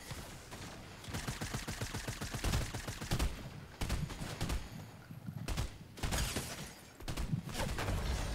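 Video game gunfire in dense, rapid volleys, loud rattling bursts with brief pauses between them, nearly continuous throughout.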